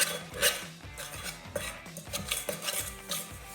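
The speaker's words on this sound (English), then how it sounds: "you want to get your spoon and scrape it down" A spoon scrapes salt dough down the sides of a mixing bowl in a run of short, rhythmic scratchy strokes with light knocks, close and fairly quiet.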